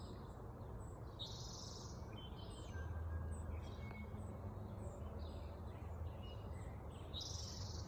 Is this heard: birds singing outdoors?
yes